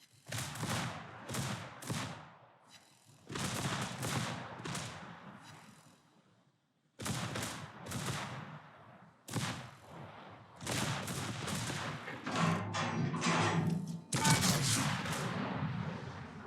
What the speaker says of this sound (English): So 2 salvos now, not quite enough.